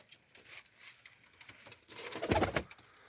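About seventeen pigeons coo softly nearby amid light fluttering and shuffling, with a louder burst of wing flapping and scuffling near the end.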